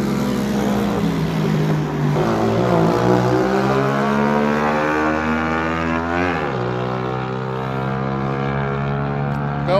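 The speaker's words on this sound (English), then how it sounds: "Motorcycle." Motorcycle passing by outdoors, its engine whine rising and then dropping in pitch as it goes past, loud and sustained for several seconds with a clear swoop midway.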